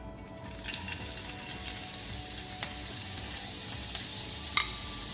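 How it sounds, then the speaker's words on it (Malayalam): Finely chopped ginger fries in hot oil with a soft, steady sizzle that is faint and close, broken by a few light clicks of stirring, with no voices. "എണ്ണ ചൂടായി ഇനി അതിലേക്ക് 1 ടീസ്പൂൺ ഇഞ്ചി ചെറുതായിട്ട് അരിഞ്ഞത്,"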